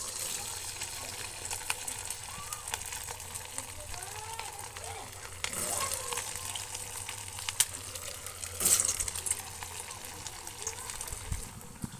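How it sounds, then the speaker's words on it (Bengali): Semolina snacks deep-frying in hot white oil in a wok give a steady, soft bubbling hiss across the whole stretch, with a few brief louder crackles and clatters and no voice. "এবার এগুলো একে একে ভেজে নিচ্ছি।"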